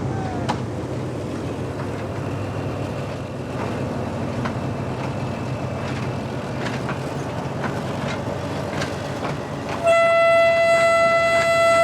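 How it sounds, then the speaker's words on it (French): An old locomotive runs on the Manakara railway line in Madagascar, rumbling steadily with clanks from the track, and near the end a loud, sustained horn blares. "Sa vieille locomotive effectue l'aller-retour sur près de 158 km, 3 fois par semaine."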